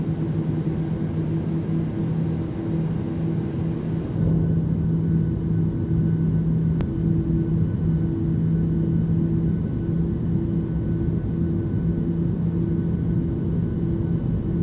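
Steady cabin-style engine drone of a Boeing 737-800 airliner in flight in Microsoft Flight Simulator, a continuous low rumble with constant hum tones, a slight shift partway through, no voices.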